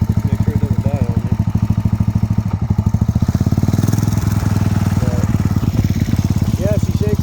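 An air-cooled Buell motorcycle engine, a fire-damaged bike rebuilt as a cafe racer, runs close and loud with a fast, heavy, regular pulsing throb and some clatter.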